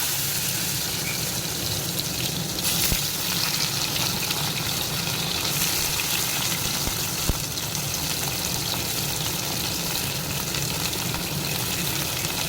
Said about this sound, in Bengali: এবার পটলটা ভাজতে দেবো।